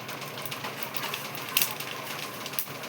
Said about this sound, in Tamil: இப்போ கடுகு உளுந்து போட போகிறேன்.